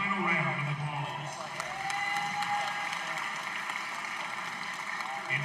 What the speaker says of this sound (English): Please give Mr. Kodak a final round of applause.